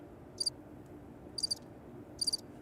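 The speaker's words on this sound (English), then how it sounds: "I got crickets." Three short bursts of cricket chirps, evenly spaced about a second apart, thin and high over a soft background hiss.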